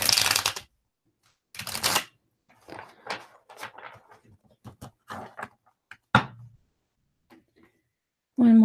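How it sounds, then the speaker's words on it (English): Tarot cards are shuffled in a few quick riffling bursts, followed by soft scattered taps and shuffles, close by, with no talking. "One more shuffle should do it."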